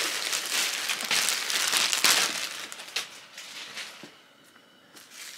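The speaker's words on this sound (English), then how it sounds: "So it has this plastic bag wrapped around it." A plastic bag is peeled off a Marc Jacobs tote during unboxing, giving close, loud crinkling and rustling bursts that fade into sparser, quieter crackles near the end.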